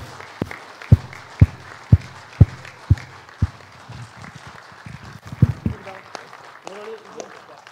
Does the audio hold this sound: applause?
yes